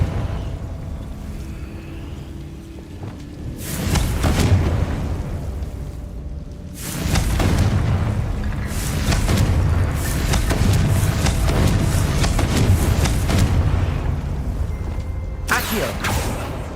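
Confringo fire spell blasts in the video game Hogwarts Legacy, several loud booming explosions with long rumbling tails over a steady ambient background, and a final sharp burst near the end.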